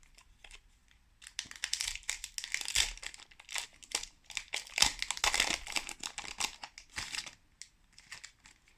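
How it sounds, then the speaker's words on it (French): Crinkling and tearing of foil wrapping as a World of Warcraft trading card booster pack of 19 cards is opened by hand, close and fairly quiet, in irregular rustling bursts. "Et c'est parti pour ouvrir ce petit booster là, de 19 cartes"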